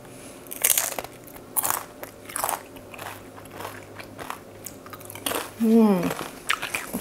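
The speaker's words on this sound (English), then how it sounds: "So I'm just gonna take a little bite here." A bite into a crunchy chip loaded with fresh homemade guacamole, giving a few sharp close-up crunches followed by chewing, with brief speech-like sounds mixed in.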